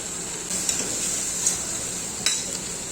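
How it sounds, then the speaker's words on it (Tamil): Tomatoes fry in a pan for a bottle gourd curry, giving a bright, steady sizzle. A few light clinks of a stirring spoon sound against the pan. "இதுக்கு வறுத்தப்புறம் தக்காளி சேர்த்து வறுத்துக்கோங்க"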